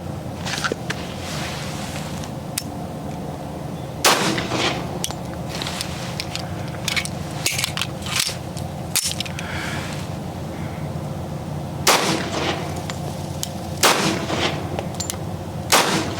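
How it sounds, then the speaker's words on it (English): Federal .45 ACP 185-grain rounds fired from a full-size M1911 pistol while shooting from cover: about eight loud, sharp shots at irregular intervals, each a sudden crack over a steady outdoor background hum. "this is Federal 45 ACP 185 grains out of full-size M1911"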